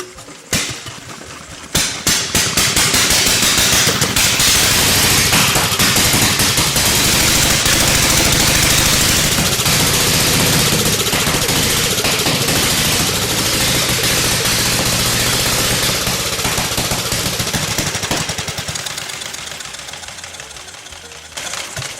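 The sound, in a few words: antique motorcycle engine starting and running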